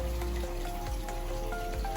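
Light drizzle falls steadily on an outdoor koi pond, a soft continuous patter of drops on water with a low background hum.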